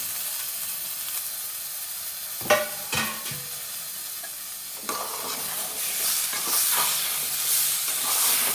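Tomatoes stirred into moong dal frying in oil, with a few scraping stir strokes early on, then a steady sizzle that builds and hisses louder toward the end, close by with no voices.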